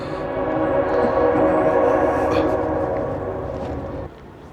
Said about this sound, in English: Oh, you can hear the train